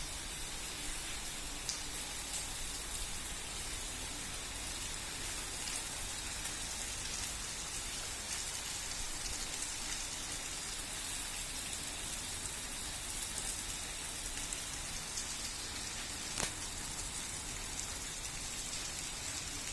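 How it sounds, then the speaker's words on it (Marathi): Heavy rain pours steadily for the whole stretch, a dense, even hiss of drops striking surfaces with a few brief louder taps, no voices present. "बघा काही रात्रीपासून किती मुसळधार पाऊस पडतो आहे"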